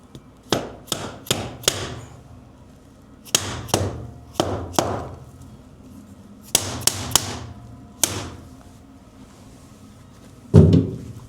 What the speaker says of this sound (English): I like a dead blow hammer for it.